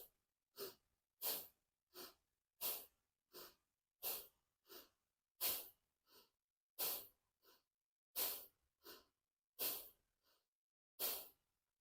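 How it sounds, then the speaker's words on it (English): Bhastrika pranayama bellows breathing, forceful inhales and exhales through the nose in about sixteen sharp, evenly spaced bursts, close and alone in a quiet room. "1 round is inhale and exhale."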